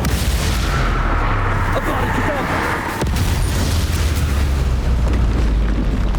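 Spell explosions in Hogwarts Legacy, a booming blast around the middle followed by heavy rumbling over a roaring battle din, loud and close.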